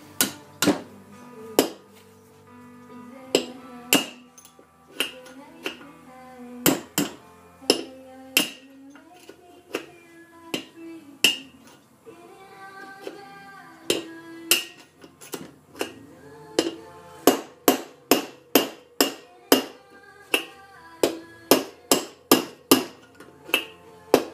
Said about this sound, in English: just hammer away, and just bit by bit it'll work itself out